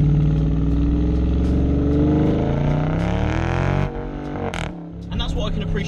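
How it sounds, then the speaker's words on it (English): Dodge Challenger R/T with a V8 Hemi roars loudly as it drops a gear, a deep engine note climbing in pitch before a sudden lift-off and a brief blip, heard from inside the car. "you want to drop a gear listen to that V8 Hemi absolutely scream its head off"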